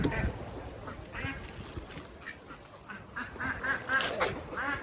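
Pet duck named Dooku quacking in a snowy farmyard pen with chickens, several harsh quacks and honks in bursts, fairly close, over outdoor noise and brief human voices.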